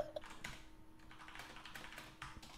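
Rapid typing on a computer keyboard while sending a chat message, soft irregular bursts of key clicks at close range with no talking.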